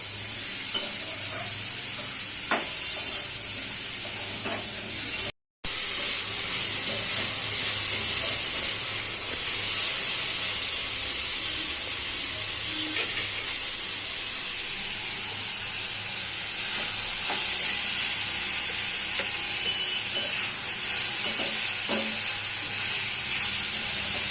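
Malabar spinach, pumpkin and potato fry together in a pan, a dense continuous sizzle and hiss with steady stirring scrapes throughout, broken by one brief silent gap, with no voices.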